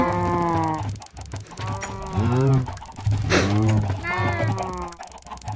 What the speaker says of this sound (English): Surrounded by horny cows.